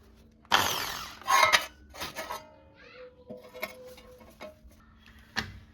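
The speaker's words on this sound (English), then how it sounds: "Let's drill them" Short bursts of a power drill whirring and grinding while drilling holes in a DIY power supply build, loud at first then broken into brief stops and starts with small clicks and knocks between.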